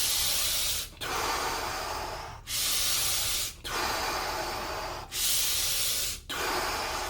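Deep, slow breathing during an energy meditation: long airy hissing breaths one after another with brief pauses between, close and loud, and no talking.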